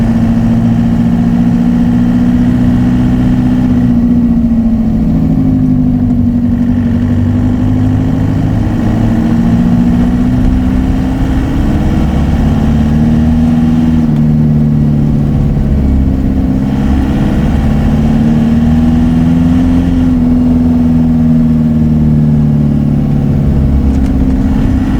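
Volkswagen TDI diesel engine swapped into a Toyota truck, running steadily with a loud, close, low drone that dips and swells gently in pitch as revs drift, with no talking.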